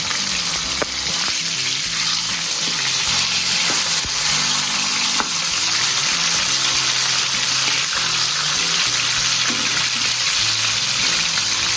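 Sankara fish fries in a pan, giving a loud, steady, close sizzle of hot oil that never lets up, with faint clinks and occasional stirring underneath.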